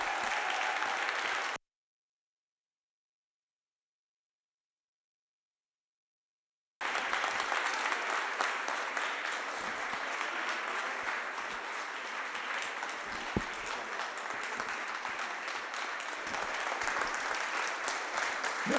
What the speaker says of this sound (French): vous fassiez une grande salve d'applaudissements pour ce travail de Jacques.